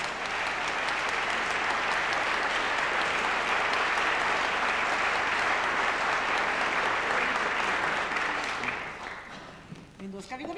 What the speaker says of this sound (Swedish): Applådering!